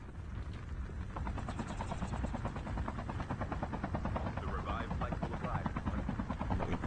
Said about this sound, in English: Helicopter, I see it.